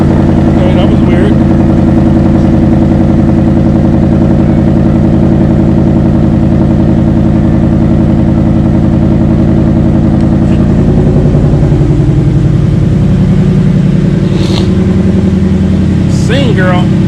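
A Ford Mustang engine runs at a steady, loud, close idle with a deep rumble, then the pitch shifts partway through as revs change, while a person talks briefly in the background.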